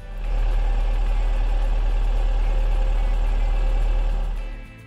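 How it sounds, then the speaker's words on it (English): A Toyota 4AGE engine in an AE86 warms up at idle, a steady close low rumble with an even throb that holds for about four seconds before easing off, with no talk. "the first step for the adjustment of ignition timing is to warm up the engine"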